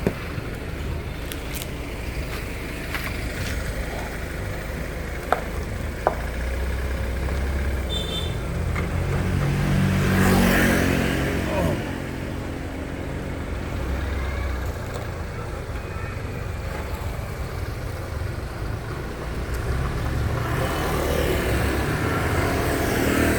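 A restored BMW F30 sedan on a test drive, its engine and road noise a steady close drone that swells around the middle and fades, with tyre rumble and a few faint clicks from the cabin.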